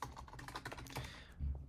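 Fast, steady typing on a computer keyboard, close up: a dense run of light key clicks with a heavier thump near the end, no talking over it.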